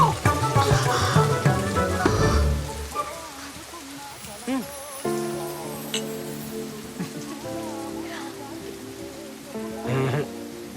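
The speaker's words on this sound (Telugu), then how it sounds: "Oh, it's raining." Steady rain falls as a continuous close hiss of drops on surfaces in a movie scene, with voices talking over it throughout.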